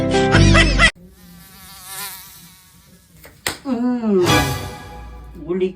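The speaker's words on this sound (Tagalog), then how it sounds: "Babae tong lamok na to." A mosquito whines in close, thin and wavering over a quiet room, fading and returning before louder voices break in near the end.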